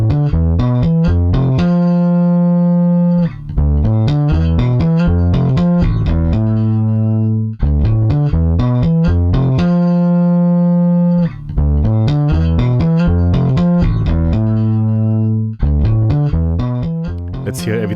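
A loud, harmonic, bass-heavy musical loop driven through multiband saturation distortion with phase distortion from crossover changes, repeating in roughly four-second phrases with brief gaps between them.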